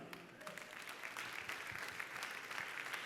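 Audience applause in a church gathering, a steady wash of clapping that fills the whole stretch at moderate level.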